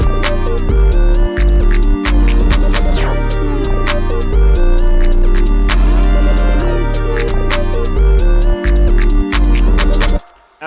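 Finished jazz-style hip-hop beat playing loud and continuous for about ten seconds, layered drums under sustained melodic chords and textures, with brief dropouts before ending abruptly.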